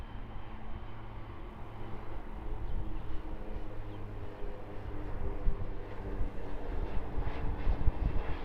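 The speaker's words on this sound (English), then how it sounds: "King Air 200." A Beechcraft King Air 200 turboprop of Skyline Aviation at Auckland airport produces a low, steady engine rumble that swells slightly toward the end, heard at a moderate distance with no one speaking.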